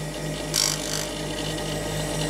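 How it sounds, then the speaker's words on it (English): A powered grinding stone hums steadily while a plane blade is hollow ground on its 25-degree primary bevel, with a short brighter grinding rasp as the steel touches the wheel. "It's going to be hollow ground, meaning I'm going to take the radius of that stone and put it onto here"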